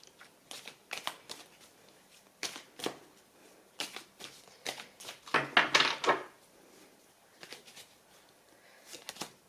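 Oracle cards being shuffled for a reading, a quiet, close series of crisp papery riffles and slaps in irregular bursts, with a denser flurry in the middle and short pauses between.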